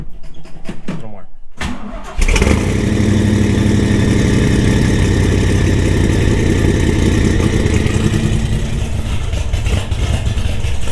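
A car engine cranks with a few stuttering attempts, catches, and then settles into a loud, steady idle close by, running on evenly to the end.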